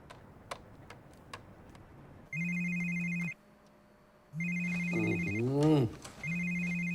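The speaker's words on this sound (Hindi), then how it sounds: "किसका फोन बज रहा है?" A telephone rings in bursts: two electronic tone rings about a second long each separated by a pause, then a third ring that warbles briefly and continues, close and clear in a quiet room after a few faint ticks.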